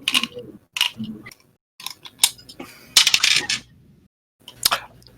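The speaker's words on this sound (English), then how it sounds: "my dice don't roll very well on my table. My table is too slippery. They just kind of slide." Dice clatter and skid across a slippery table in a series of sharp clicking bursts separated by short silences, close and dry, with no talk.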